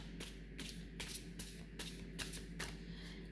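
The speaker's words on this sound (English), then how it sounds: "I'm just clearing the cards." Tarot cards shuffled by hand in quick, rhythmic riffling bursts, roughly one every half second, close and fairly quiet, with no talking.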